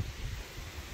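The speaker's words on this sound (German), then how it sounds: "Es ist auch verdammt windig." Strong wind during a storm, a steady broadband rush with low rumbling buffeting against the microphone, continuous and fairly loud with no voices.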